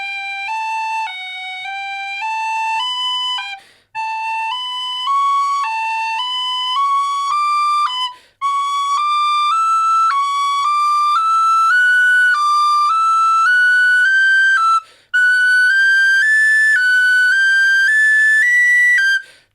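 A tin whistle plays a scale starting from low D, with clear, piercing notes that step upward in bright, sustained tones, briefly breaking for breaths between phrases.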